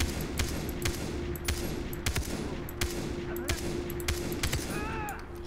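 Video game gunfire rattles in rapid, continuous volleys of sharp shots at moderate loudness, layered over a constant background hum.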